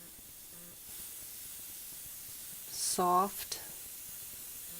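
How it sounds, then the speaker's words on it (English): A Copic airbrush sprays ink in a soft, steady hiss, with a brief voice cutting in near the end. "First thing I'm going to do is snap my airbrush into the holder, test it"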